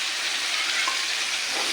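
Tomato pieces frying in hot oil give off a dense, even hiss that holds steady throughout, with faint stirring underneath and no voices.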